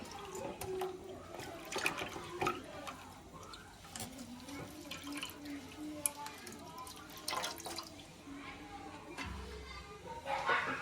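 Tap water runs and splashes while fresh coriander leaves are rinsed for a chicken biryani, with uneven trickles and drips close by and a voice talking over it.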